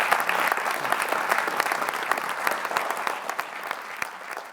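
Audience clapping in a lecture setting after a talk, a steady dense round of applause with sharp individual claps popping out, moderately loud and sustained for several seconds without speech.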